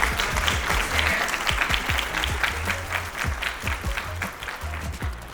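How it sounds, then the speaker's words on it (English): Audience applause at a Benedict College Women's Business Center speech event, a steady sustained clapping from a crowd that fills the room evenly for several seconds with no talk over it. "Everyone, please give a round of applause to Eric."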